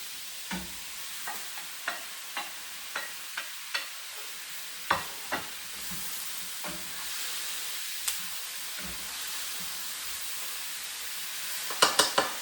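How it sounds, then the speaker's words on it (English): Tofu tossed into a bok choy stir fry sets off a hissing sizzle in the pan, punctuated by a regular run of sharp clacks from stirring, then a steady fry with a cluster of bangs at the end. "And then drop in the tofu."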